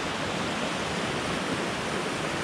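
A small waterfall pours over a giant slab of bedrock, giving a steady, even rush of water that holds at moderate loudness throughout with no voices.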